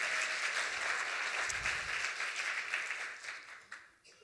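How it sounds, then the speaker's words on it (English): Audience at a community storytelling event about homelessness breaks into warm, sustained applause that gradually thins out over a few seconds, with no one speaking. "you can clap"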